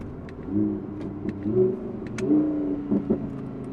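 An Audi R8 V10 with a titanium exhaust revs and growls at low to mid pitch, rising and falling a few times, with sharp exhaust pops near the end.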